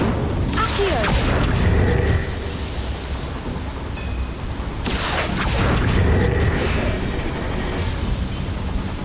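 Incendio fire spells in Hogwarts Legacy on Nintendo Switch burst out as two loud, roaring blasts several seconds apart, each with a sharp onset that trails off into a rumbling, crackling wash.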